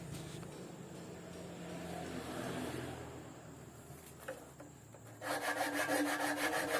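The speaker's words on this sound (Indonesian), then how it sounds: "Nah, kadang permukaannya pun kita amplas juga ini." Sandpaper on a board rubs over a kite hummer part for a dandang kite, starting as soft scraping and ending in close, rhythmic back-and-forth sanding strokes.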